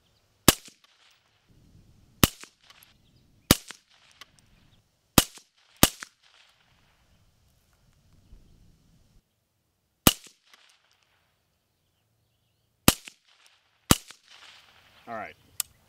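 A rifle fitted with an AB Suppressors Raptor suppressor, firing about eight sharp, loud single shots at irregular intervals, with quiet movement and faint murmuring between them.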